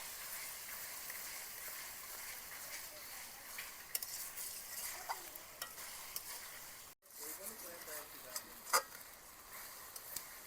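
Onion, tomato and green chilli fry in oil while being stirred in a pan, giving a steady close sizzle with scraping strokes and a few sharper clinks throughout, briefly cut out near the middle.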